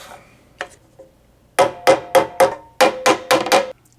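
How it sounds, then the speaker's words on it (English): A small brass hammer knocks the retaining pegs out of a dragon katana's handle with a few sparse taps, then a run of about nine sharp, ringing metallic strikes close up, with no talk. "I'm going to try to knock these pegs out"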